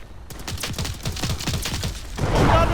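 Tesla cannon fire in Fallout 4 comes as a loud, rapid string of crackling energy bursts, about a dozen close together, ending in a denser roar.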